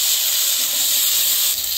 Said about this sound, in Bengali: মাছ ভাজা তেলের মধ্যে আমি আলু দিয়ে দিব